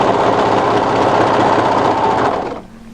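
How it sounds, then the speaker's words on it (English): An overlocker stitches a seam on a draped-front shawl-collar hooded cardigan, running as a steady fast mechanical whir for about two and a half seconds before stopping and leaving a low idle hum. "I'm going to overlock up to that notch."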